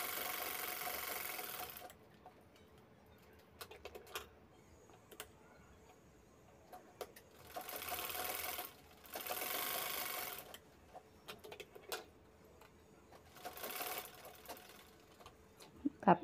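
A sewing machine stitches a handbag pocket, its motor whirring in several bursts of about two seconds each, separated by quiet pauses with faint ticks and handling.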